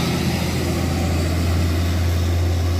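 A bus engine drones steadily with a deep low rumble and constant road noise, unbroken throughout, running nearby on a steep road near the Jambi–Riau border.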